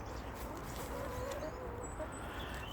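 Chickens cluck softly and intermittently in a backyard coop, with faint, scattered calls over a low background hiss; no one speaks.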